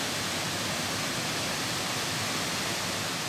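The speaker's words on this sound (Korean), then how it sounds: "안개를 헤치고 우리가 도착한 곳은 바로 또 다른 폭포였다." A waterfall in misty terrain gives a dense, steady roar of rushing water, loud and unbroken from start to finish with no voices.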